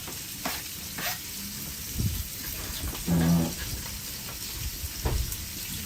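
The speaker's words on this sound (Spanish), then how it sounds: "Y ahora que se vaya pochando la cebollita." Two chopped sweet onions softening in a casserole, a low steady sizzle with occasional clinks and stirring sounds and a brief whimper-like squeak partway through.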